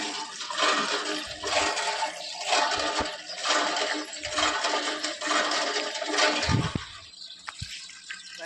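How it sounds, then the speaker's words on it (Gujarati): Water gushes loudly and continuously from a tap into a container, with occasional low thumps and knocks as it fills. "આપણે ઘર માટે પાણી ભરવા માટે આવ્યા છીએ"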